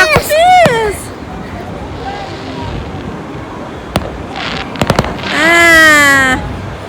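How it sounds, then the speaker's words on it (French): Fireworks bursting at an evening beach event in Daytona Beach, heard as several sharp pops and booms, some close together, amid crowd hubbub, whistling and excited voices. "Ouais, des feux d'artifice!"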